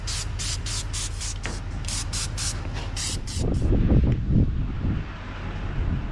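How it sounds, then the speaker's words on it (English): Close, rapid hissing bursts of gravel guard coating being sprayed during a 1971 Chevrolet C10 rebuild, about eight quick pulses, followed by low rumbling handling noise. "I'm just going to spray on a little bit of gravel guard"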